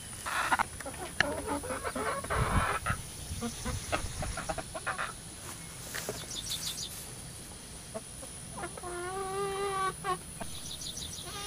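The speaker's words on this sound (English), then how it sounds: "Oop, look at the chickens. It's a chicken stampede." A flock of chickens clucking and squawking at feeding time on a small farm, close and busy. A rising, repeated crowing-like call is heard near the end.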